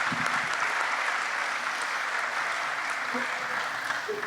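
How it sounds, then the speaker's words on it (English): A crowd at a State of the District event applauds as performers leave the stage, a dense, sustained roar of many hands clapping evenly throughout, with faint voices and cheers mixed underneath. "Let's give them another round of applause as they transition off the stage."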